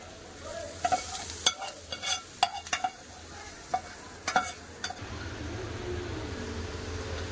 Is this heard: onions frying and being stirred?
yes